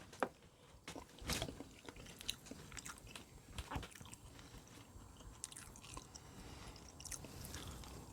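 Mountain House Korean inspired beef, a rehydrated freeze-dried meal, is bitten and chewed close to the mic. Wet crunches and squishy mastication come in irregular bursts over about eight seconds, with no talking.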